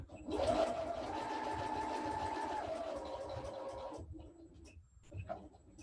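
A sewing machine stitches fabric in one continuous, fairly quiet whirring run of about four seconds, then stops for the presser foot to be lifted and the fabric pivoted, leaving faint handling sounds.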